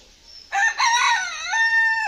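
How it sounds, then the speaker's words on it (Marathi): A rooster perched in a tree in a Konkan village crows loudly and close by, one sustained cock-a-doodle-doo call lasting over a second against a quiet morning background. "बघा कोंबडा बघा झाडावरती आहे."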